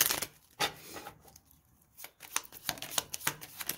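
Oracle cards are shuffled in quiet, close riffling bursts with soft papery flutters between short pauses.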